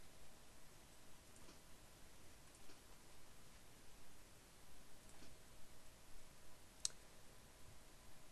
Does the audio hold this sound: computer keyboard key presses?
yes